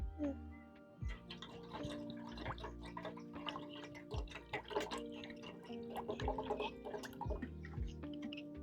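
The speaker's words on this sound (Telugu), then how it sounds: "కొన్ని నీళ్ళు పోసుకుందాం." Water poured from a container into a cooking pot at an outdoor village campsite at dawn: close splashing and dribbling with scattered drips, plus some tonal background sounds.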